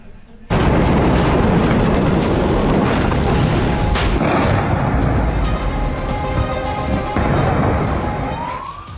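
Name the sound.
Iranian missile attack explosions and artillery fire on military base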